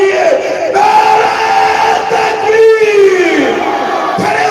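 Crowd at a religious gathering shouting a slogan response in unison, loud massed voices sustained across the clip with a rising chant near the middle, no solo speech on top.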